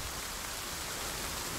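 Steady rainfall in The Forest survival game, a constant soft wash of drops hissing evenly from start to finish, with no voices.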